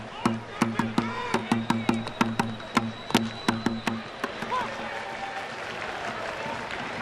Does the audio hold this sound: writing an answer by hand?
no